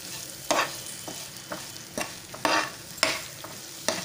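Amchur powder being mixed into green chillies frying in a pan, rhythmic spoon scrapes at roughly half-second intervals over a low background sizzle, close and clear with no speech.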